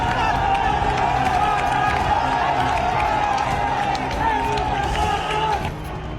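A dense protesting crowd in Bangladesh surrounds an army tank, chanting slogans and shouting steadily. The roar of many voices stays loud and close throughout, with a slight drop near the end.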